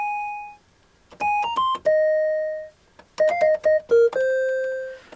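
Dry celesta preset from a Casio MT-68 keyboard playing a short melody of clear bell-like tones in separate phrases with brief gaps, close and fairly loud, with no effects and no voices.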